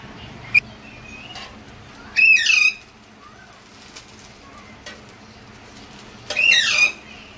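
A pet myna bird gives two loud, squawking calls a few seconds apart indoors in a home kitchen, with faint chirps and a soft click in the quiet between them.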